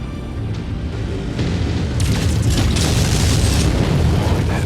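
Missile explosions in MechWarrior, a mech combat game: a dense, continuous barrage of deep booms and crackling blasts that rolls on loud and close, swelling partway through.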